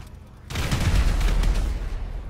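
A burst of sustained gunfire erupts in GTA V after a half-second lull, a loud, dense fusillade of rapid shots that continues to the end.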